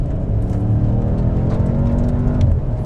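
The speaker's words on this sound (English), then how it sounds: "I had to push the accelerator all the way to the ground past the spring, the detent spring, for a conventional automatic kick down." BMW M5 F90 on a full-throttle kick-down, its engine pulling hard with a steady, loud, dense roar of rising revs that holds for about three seconds, heard from inside the car.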